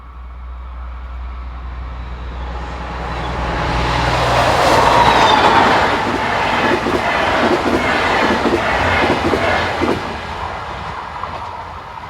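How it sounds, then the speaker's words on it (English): A train hauled by a Class 218 diesel locomotive approaches and passes close by, engine roar swelling then giving way to rhythmic clattering of wagons over the rails. "Here 218447 heads a train for the Braunschweig line."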